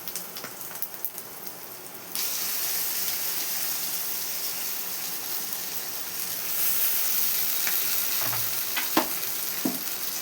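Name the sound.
grated raw mango frying in tempering oil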